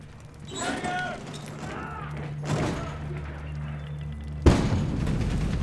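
A grenade goes off in the Medal of Honor (2010) shooter as a sudden heavy boom late in the scene, after a stretch of someone talking over steady low game rumble and gunfire-like thuds.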